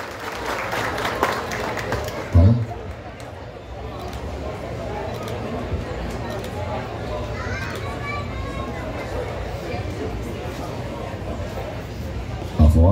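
Audience at a hometown honors ceremony in Tiros, Minas Gerais, claps steadily throughout with children's voices and crowd chatter mixed in, and a couple of louder thumps near the start and end.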